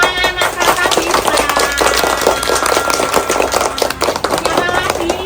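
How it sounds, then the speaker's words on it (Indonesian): Children clapping together for a classmate named Mas Atta during a playful school geometry lesson, a dense, loud, steady patter of many hands close by, mixed with an adult voice talking over it. "Tepuk tangan Mas Atta bisa."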